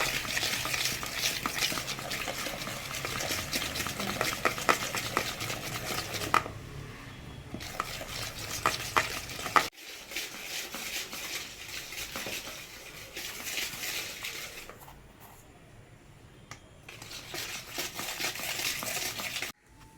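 Butter and sugar being mixed for a plum cake batter, a steady scraping and stirring of utensil against bowl that runs almost continuously, with short pauses partway through and no voices.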